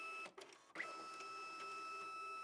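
Magicard Enduro+ card printer drawing in a cleaning card, a quiet mechanical whir with a short pause and faint clicks, then a steady low motor hum continuing alone.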